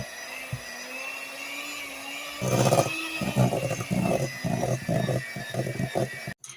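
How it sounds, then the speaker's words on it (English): A kitchen blender whirs through chocolate cream pie filling with Cool Whip in short repeated bursts after a quiet start, close and fairly loud. "Let's see if the blender can help us out now."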